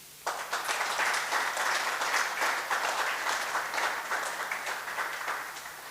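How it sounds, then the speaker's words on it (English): At the grand opening of a Hindu temple and community centre in Oxford, a hall audience breaks into a big round of applause for the temple committee members, steady dense clapping that starts abruptly and slowly tapers. "they get a big round of applause again"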